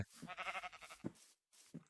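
Sheep bleating in the video game Minecraft, a couple of short wavering bleats close by, clear and fairly quiet, with no talking over them.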